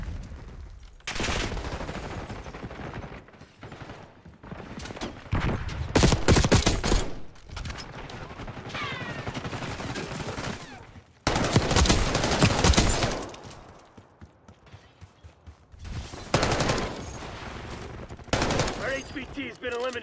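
Rapid bursts of automatic gunfire and sharp shots from the Call of Duty Black Ops 6 video game, loud and close, coming in irregular clusters with brief pauses, with some voice and game chatter mixed in.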